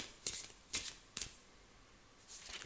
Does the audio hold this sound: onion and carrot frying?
no